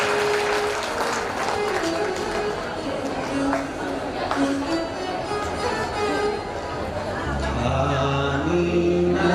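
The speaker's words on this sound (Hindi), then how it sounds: "एक बार जोरदार ताली बजाएं" A large crowd at a live Shiv Mahapuran katha religious gathering claps loudly and steadily throughout, a dense continuous wash of applause mixed with crowd chatter and voices.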